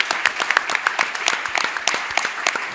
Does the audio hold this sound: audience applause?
yes